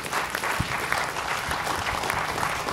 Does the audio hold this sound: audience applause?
yes